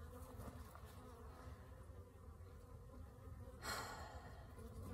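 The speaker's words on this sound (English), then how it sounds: "There is a bee with a mite on it right there." Honeybees buzzing steadily around an opened hive during an inspection of a failing colony with varroa mites, a continuous close droning hum with a brief louder swell near the end and no talk.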